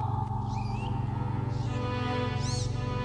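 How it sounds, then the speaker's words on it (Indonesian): Dolphins underwater give several high whistles and chirps, one faint and brief and another rising more clearly near the end, over a steady low humming background. "Itu suara lumba-lumba."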